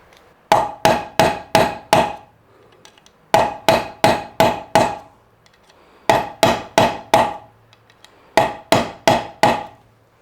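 Metal ferrules being hammered into the back of a hybrid Les Paul style guitar body: four groups of four or five crisp, loud, evenly spaced taps separated by short pauses.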